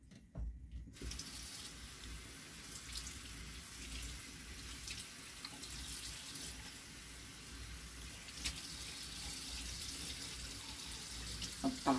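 A tap runs steadily to soak a towel, producing a continuous close hiss and splash of water that starts abruptly and holds without pause, no one speaking over it.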